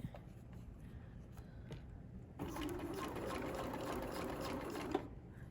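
A sewing machine stitches an invisible zipper seam, briefly backstitching; a quiet hum and light clicking give way to a louder, steady run of rapid stitching, close and alone.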